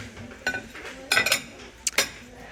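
Plates and dishware, including a large plate and a salad bowl from a blue kitchen tableware range, are handled in a few separate bursts of clinking and knocking with short pauses between them.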